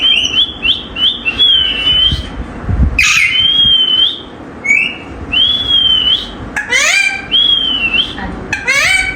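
A pet parrot whistles in repeated short rising and falling notes, loud and close. A person speaks between the whistles.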